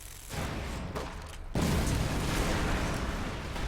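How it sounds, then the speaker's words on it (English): Panzerschreck rocket explosion in the Company of Heroes 2 battle game, a loud sudden boom that swells into a sustained rumbling blast amid ongoing combat noise. "I heard an explosion. Oh, that's just the Panzerschreck who was shot at the captain squad."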